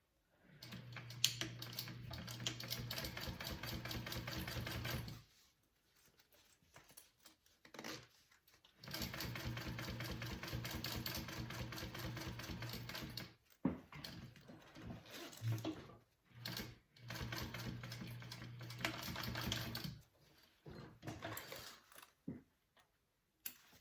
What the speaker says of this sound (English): I'm sewing along this bottom line here